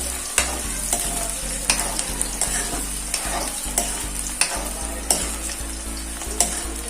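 Finely chopped onions fry in a pan for dhaba-style rajma masala, a steady loud sizzle under regular scraping strokes of a spoon, close and continuous, with no voices.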